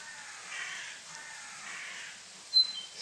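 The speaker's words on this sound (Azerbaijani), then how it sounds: "qarğalar veriblər səs-səsə." Crows cawing in a village yard on a May morning, a couple of short harsh calls near the end over a faint, quiet outdoor background.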